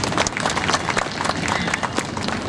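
Applause from a seated audience at an evening poetry gathering held in honour of Babasaheb Ambedkar in Prayagraj, with a steady, dense patter of many hands clapping at once, continuous and fairly loud throughout.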